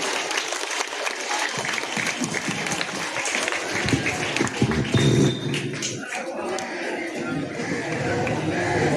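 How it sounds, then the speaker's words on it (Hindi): A school audience at an inter-house elocution competition breaks into dense, sustained applause to welcome a speaker, filling the hall steadily with a brief surge midway and a murmur of voices mixed in. "कृपया आप लोग जोरदार तालियों के साथ उनका स्वागत करें"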